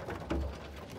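Young pigeon chicks give a brief, soft, low coo, heard close up over faint background rustle.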